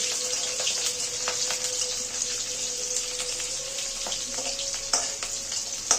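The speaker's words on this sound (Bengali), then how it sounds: "মরিচটা আমরা হালকা করে ভেজে নেব।" Green chilies fry in hot mustard oil with a steady, bright sizzle and crackle, and a few sharper spits and pops near the end, heard close with no talking.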